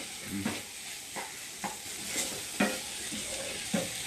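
Bitter gourd frying in oil with salt and turmeric crackles steadily in a pan, broken every half second or so by a spatula scraping and stirring through the pieces, close and with no talking.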